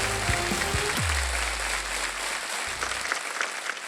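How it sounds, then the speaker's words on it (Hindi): A studio audience on the game show Wheel of Fortune breaks into steady applause while a low musical tone swells and fades underneath, the clapping continuing evenly to the end. "जोरदार तालियां।"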